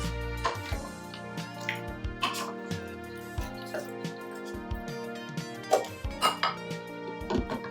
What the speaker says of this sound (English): I'm going to stir it, turn my fire down, cover it